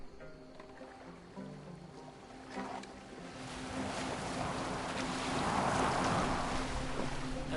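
Boat rowing across open water in Assassin's Creed Valhalla, with a steady wash of waves and wind that builds louder toward the end, carrying faint low engine-like tones beneath.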